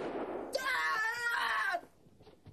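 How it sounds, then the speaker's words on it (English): A long, loud cry in the Mad Dog McCree video game rings out for about a second and then drops away into quieter background sound. "I think he was trying for a Wilhelm scream there"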